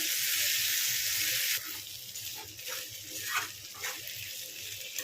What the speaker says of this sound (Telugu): అంతా ఒకసారి కలుపుకొని మూత వేసుకొని ఫ్రై చేసుకోండి.